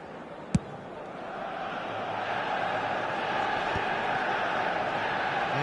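A football stadium crowd roars in a broad, sustained swell that gradually builds, loud and continuous, with a sharp thud near the start.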